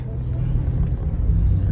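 Interior of a car driving on the way to work, a steady low engine and road rumble filling the cabin, close and continuous, with a voice talking over it.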